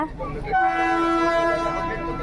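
A train horn sounds a sustained, steady tone for about a second amid noise at Ketti railway station on the Ooty toy train line, with a voice faintly underneath.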